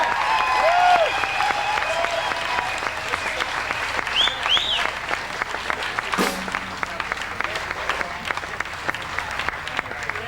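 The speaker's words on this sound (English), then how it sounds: "Why don't you give them a nice round of applause for me" At an outdoor blues festival in Portland, Oregon, an audience applauds a blues band in a sustained, even roar of clapping, with scattered whistles and a few shouts rising above it.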